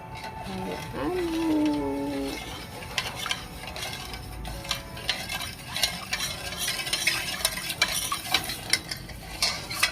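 Ginger and onion fry in a pan with a steady sizzle and frequent stirring clatter from a utensil. A voice is heard briefly near the start.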